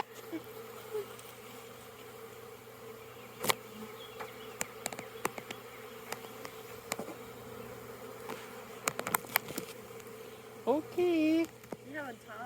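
Bees from a swarm buzz in a low, steady drone, with sharp clicks and knocks scattered through it and a brief louder, wavering buzz close by near the end; a voice speaks faintly under it.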